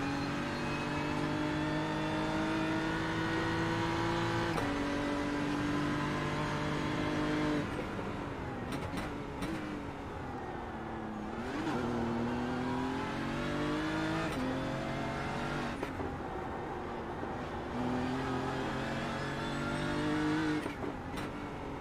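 Race car engine heard on board in the iRacing video game at a BMW club race on the Detroit circuit: loud, high revving that climbs through the gears, drops sharply under braking and picks up again, alone and continuous.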